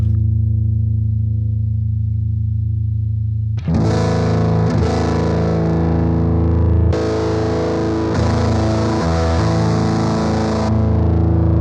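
Guitar through a Keeley Twin Manis germanium boost with the level cranked: a sustained clean-ish note rings alone, then loud overdriven chords strike and ring out in several bursts.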